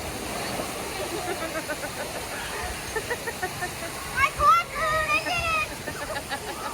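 Water rushes steadily as a person slides down a hotel water slide at the Disneyland Hotel and splashes into the pool, with a voice calling out briefly over the sloshing near the end.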